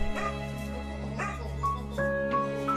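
A beloved dog named Freya greets her owner on his return after months apart, giving short high whimpers and yips over a steady low hum, close and fairly soft, with faint voices in the background.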